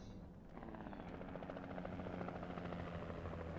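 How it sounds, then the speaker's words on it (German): A helicopter in the video game Alan Wake gives off a steady rotor thrum and engine drone that holds at a constant level throughout, fairly distant and fairly quiet, with no speech. "Das ist der Helikopter."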